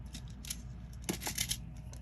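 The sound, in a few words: cutting 20 gauge wire into short lengths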